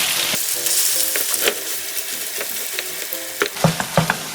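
Green onions frying in a generous amount of cooking oil in a pan for a pajeon, a constant loud sizzle close by with occasional clinks and scrapes of a utensil, no voices.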